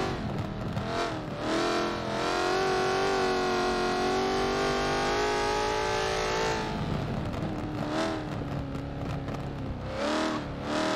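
A race car on a qualifying lap howls through corners, its engine note climbing and dropping as it brakes and accelerates, loud and close, with a long sustained high-revving stretch before easing off and pulling away again.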